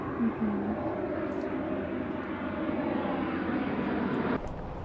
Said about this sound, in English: So you can hear the airplanes overhead